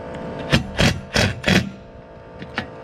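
Several quick ratchet bursts tightening roof rack bolts on a Ford Transit, four close together then two shorter ones after a pause, sharp and nearby with no talking.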